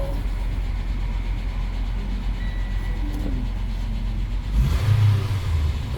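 A 2013 Mitsubishi Outlander with an alternator charging fault idles with a steady low engine rumble, then the engine note swells and roughens briefly as it catches and runs on, heard close with no talking.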